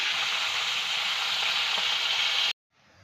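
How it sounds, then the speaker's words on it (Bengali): Pieces of bhola fish frying in hot oil make a loud, dense, continuous sizzle that cuts off abruptly, followed by a faint quieter hiss. "এই যে মাছগুলো ভাজা হচ্ছে।"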